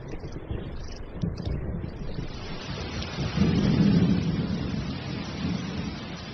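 Steady heavy rain pours during a thunderstorm as a deep rumble of thunder swells midway, close and enveloping, with no voices.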